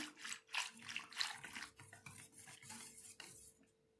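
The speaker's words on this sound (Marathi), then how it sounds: "तर आता याला आपण छानपैकी ते मिक्स करून घेऊ" Buttermilk and gram flour (besan) whisked together in a bowl for Maharashtrian kadhi, giving close, uneven scraping and clinking strokes of a utensil against the vessel with a faint steady hum behind, fading toward the end.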